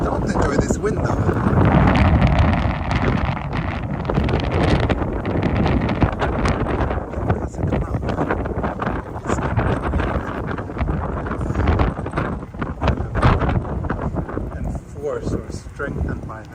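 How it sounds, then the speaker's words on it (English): Heavy wind blasting into the microphone on a Tokyo street between Akihabara and Hamamatsu, with loud rumbling gusts throughout and people talking beneath the buffeting. "I really don't enjoy this wind though."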